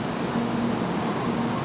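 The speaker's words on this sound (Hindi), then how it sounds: "ये आ गई भाई बुलेट ट्रेन" A Japanese bullet train pulls into a station in Tokyo: a loud, steady rolling roar with a thin high whine from the wheels and running gear, close and continuous throughout.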